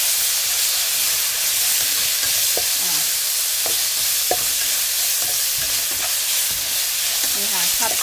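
Fermented soybean paste and pork stir-fry in a hot pan with a dense, continuous sizzle, punctuated by sharp spatula scrapes and clinks against the pan, close up and with no talking.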